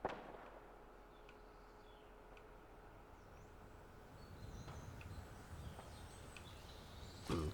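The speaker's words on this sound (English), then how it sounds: "I do hear some shooting." Distant gunshots in Fallout 4 with the Fallout London mod crack sparsely as faint, isolated sharp pops over a quiet ambient bed with faint chirps, the last shot somewhat louder.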